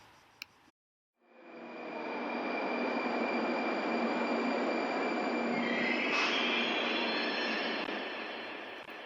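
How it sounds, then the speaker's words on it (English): Russian metro rails squealing, treated with reverb, ping-pong delay and compression: after a short click and silence, a sustained metallic screech with steady high whining tones rises in and rings on for several seconds before fading. "there's this squeaking thing of the rails in the Russian metro system"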